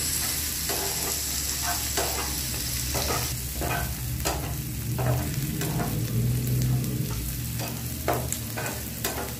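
Onions sizzle steadily in a pan as they brown for a soybean curry, with repeated scraping stirs at an uneven rhythm close by and no talking.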